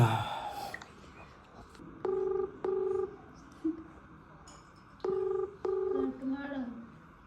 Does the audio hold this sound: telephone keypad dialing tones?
yes